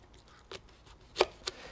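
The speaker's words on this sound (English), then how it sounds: "cut all head of garlic in half" A knife cuts through a head of garlic on a cutting board, giving a few sharp crunching snaps, with one louder crack near the end, close and alone with no talking.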